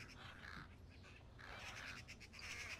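A crow calls in the Thief video game, with harsh caws scattered across a few seconds over a steady low ambient bed, moderately near and without speech.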